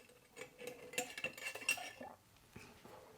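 A metal spoon clinks and scrapes against a dish while stirring homemade fondant mixture, several close, sharp taps and scrapes in quick succession, with no talking.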